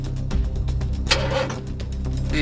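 A car engine cranks and struggles without catching, a steady low churning rumble with rough bursts throughout, close and fairly loud with no talking.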